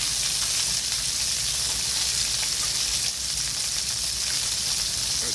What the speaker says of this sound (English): I recommend first time is you have to saute like a skin side